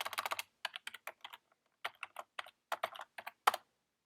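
Fingers type a password on a computer keyboard in quick bursts of crisp key clicks with short pauses between groups, close and moderately loud, with no talking.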